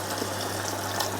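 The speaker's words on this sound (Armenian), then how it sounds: "Ավելացնում եմ ջուր, սովորական առանց գազի ջուր" Plain still water poured into a dough mixture for homemade lasagne, a steady, close gushing splash with an even low hum beneath it and no talking.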